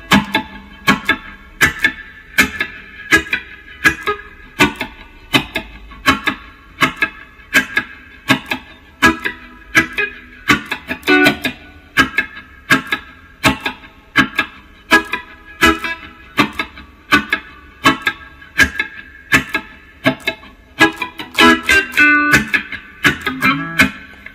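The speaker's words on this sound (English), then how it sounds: "And for the wah pedal" Electric guitar through a wah pedal playing a reggae song: a steady stream of short, choppy offbeat strums that repeat in an even rhythm, fairly loud and with no voice over them.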